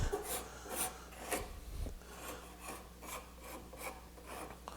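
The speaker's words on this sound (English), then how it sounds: "a lot of times I'll just card scrape this where there's a flat there" A card scraper drags over a flat spot on hard maple for a board in a run of rhythmic rasping strokes, close and moderately quiet, each pull a dry scratchy swipe.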